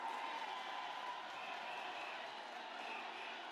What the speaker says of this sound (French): Applaudissez pour le chef de l'État et la distinguée première dame.